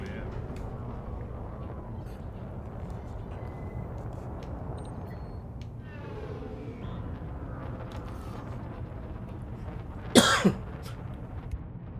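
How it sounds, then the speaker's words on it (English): One sharp, tickly cough bursts out near the end, loud and close, after a stretch of low engine-like hum during live gameplay of Elite Dangerous. "Bit of a tickly cough there."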